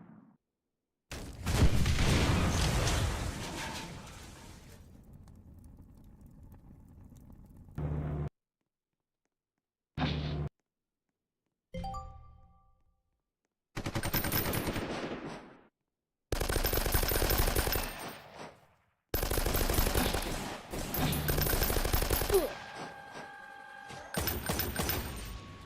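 Loud bursts of automatic gunfire in the Roblox combat game Noobs in Combat, with several long sustained volleys broken by short silences and a few single shots.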